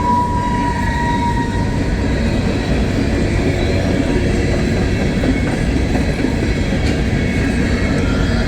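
A Norfolk Southern coal train made up mostly of 3-bay hoppers passes close by on the Mon Line, with a loud, steady rumble and rolling wheel noise that continues throughout.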